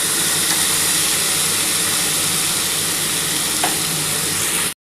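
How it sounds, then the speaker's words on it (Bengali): Cauliflower and potato pieces with salt and turmeric fry in a pan for a vegetarian aloo posto. A loud, steady, close sizzle runs on its own without a break and cuts off abruptly at the end. "নুন হলুদ দিয়ে কিন্তু ফুলকপি আলুটা মোটামুটি ভাজা হয়ে এসছে"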